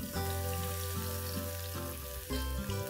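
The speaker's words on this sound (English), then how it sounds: "once the ghee heats up, add in the crushed garlic to begin with" Crushed garlic sizzles in hot ghee, a continuous close frying hiss with a faint bubbling crackle throughout, no voices.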